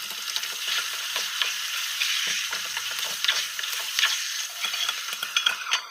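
Washed chicken pieces frying in oil with spices and coriander, a steady close sizzle broken by repeated stirring scrapes and clatters of a utensil against the pan, with no talk.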